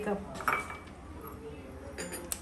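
Dishes and cups clink softly in a home kitchen as hot, reheated tea is poured into a cup, with a few sharp ceramic taps and a faint murmur of a voice nearby.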